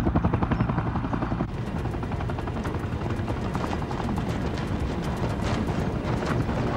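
A helicopter's rotor thumps rapidly and loudly without pause, a dense steady chopping that fills the scene in a 1998 action thriller.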